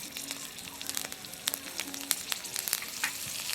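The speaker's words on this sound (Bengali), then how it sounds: "এখন এই তেলের মধ্যে দিয়ে দেবো একটা তেজপাতা, 3টি কাঁচা লঙ্কা" A bay leaf and green chillies sizzle in hot oil, a soft crackling hiss with scattered sharp pops and spits, fairly quiet and close.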